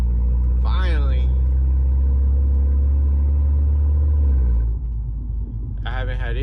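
A 2015 Mercedes CLA 250 4matic engine runs with a steady low rumble that later drops in level, while a voice talks over it at the start and end.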